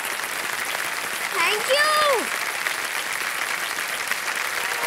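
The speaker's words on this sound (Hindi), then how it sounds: "एक बार जोरदार ताली बजाए।" Studio audience applause on a televised quiz show, sustained clapping throughout while a host briefly speaks over it.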